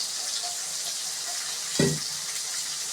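A brief splash as water is sprinkled over idli steaming in the pan, one short burst over a steady hiss of steam, heard alone.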